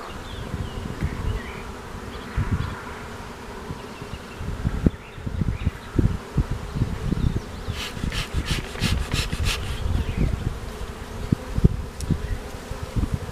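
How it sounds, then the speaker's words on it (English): A swarm of Virginia killer bees buzzes in an arborvitae hedge outdoors, a dense continuous drone close by with rustling and bumps, and no voices. "Some Virginia killer bees"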